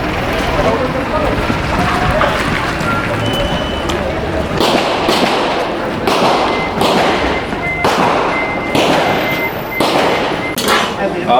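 Gunshots ring out at a military academy firing range, a series of sharp, loud cracks spaced a second or two apart over steady background noise with talk nearby.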